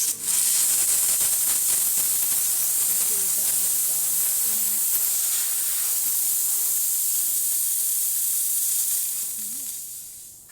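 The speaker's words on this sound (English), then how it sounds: "so now that the steam is ready, I'll show you that." ECM Casa V espresso machine steam wand steaming, a loud, steady hiss close by that runs almost the full length before tapering off at the end.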